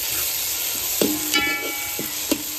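A spoon scrapes and knocks through thick chicken gravy in a pot on a wood-fired chulha, a few distinct stirring clinks over a low steady simmering hiss, close and without voices.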